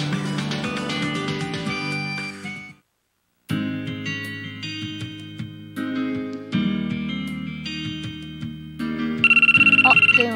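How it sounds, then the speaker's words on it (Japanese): A phone ringtone plays in a Japanese school-festival dating game, a loud, repeating melodic tone in several bursts with a short silent gap, ending in a brighter high ringing phrase. "あ、電話だ。"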